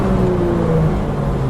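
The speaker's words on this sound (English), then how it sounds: "It's got a little sound to it. That's the air sucking in the." The naturally aspirated 500-horsepower engine of a green 2016 Porsche 911 GT3 RS draws air hard under acceleration, a loud, close, continuous intake roar with a steady whirring tone inside the cabin.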